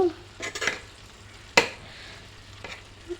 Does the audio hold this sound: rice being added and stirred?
yes